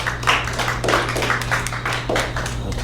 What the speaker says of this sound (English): big round of applause for Bachir